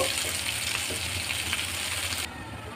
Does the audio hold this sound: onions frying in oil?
yes